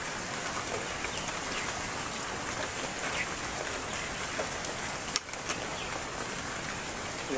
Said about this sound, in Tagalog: Ilang araw nang umuulan.